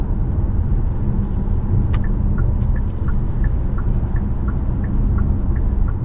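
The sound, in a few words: wind and road noise inside Hyundai Santa Cruz cabin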